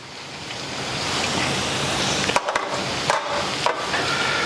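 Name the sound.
okra frying in vegetable oil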